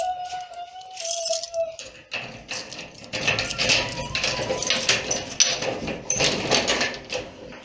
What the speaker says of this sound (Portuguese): Vamos abrir a porta.